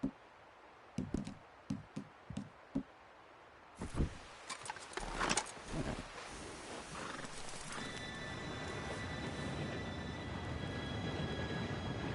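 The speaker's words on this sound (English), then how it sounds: "Train should be here any minute now." In a PS4 video game, a train rumbles in and swells into a steady roar with a faint high whine, after hoofbeats and scattered thuds.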